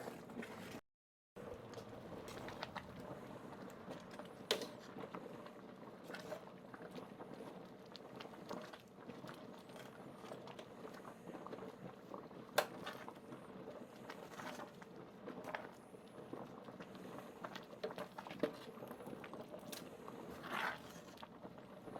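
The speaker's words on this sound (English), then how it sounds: "This is an aggressive boil. You can't see it, but I can hear it underneath the pan." A beer decoction for a Czech premium lager is boiling aggressively in a pan on a G40 brewing system, a faint, steady bubbling and popping hiss with scattered small ticks, continuing for the whole stretch.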